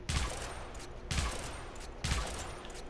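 Sybaris Prime rifle in the Warframe video game fires three evenly spaced, sharp, loud bursts roughly one second apart, with no other sound between them.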